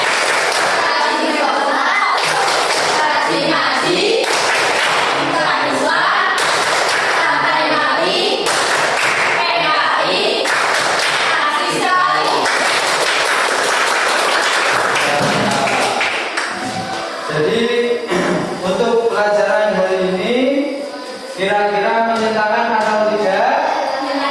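Children in a Quran class clap along to the Tepuk Anak Soleh song, rhythmic group claps mixed with sung chanting voices, loud and close for a sustained stretch.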